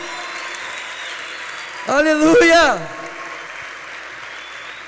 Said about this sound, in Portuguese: Aplauda Jesus mais forte aí